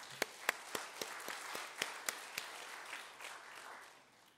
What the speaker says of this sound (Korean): 우리 하나님께 찬양의 박수 올립시다.